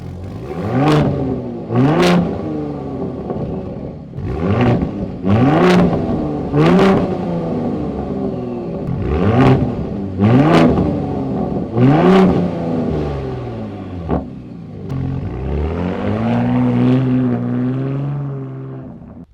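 A 2024 Ford Raptor revs its exhaust repeatedly in different exhaust modes, each sharp, loud blip rising and falling in close succession with no talk, ending in a longer drawn-out rev that settles to a steady idle.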